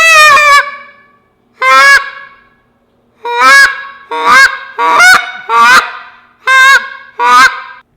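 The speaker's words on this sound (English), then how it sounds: "Here is the goose call." Goose call by Duck Commander blown by a hunter, giving eight loud, nasal honks: a drawn-out first honk, a short second, then six clipped honks in quick uneven pairs, close and alone.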